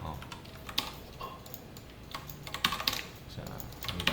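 Continuous typing on a computer keyboard while code is entered, with steady clicking and a few louder keystrokes under faint background noise.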